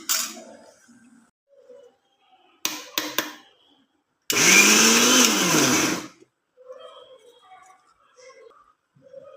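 A mixer grinder blends coconut, shallots, chili powder and coriander powder for a drumstick combination curry. A few light clinks come first, then one loud whirring burst of about two seconds with a wavering pitch, followed by quiet kitchen clatter.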